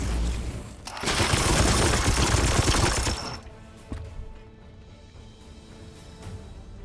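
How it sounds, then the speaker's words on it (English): A Psy Cannon fires in the turn-based strategy game Warhammer 40k: Chaos Gate Daemonhunters, a loud sustained burst of rapid gunfire-like blasts for about two and a half seconds, then fading into quieter ambient battle noise with a small thud. "Trigger the Psy Cannon."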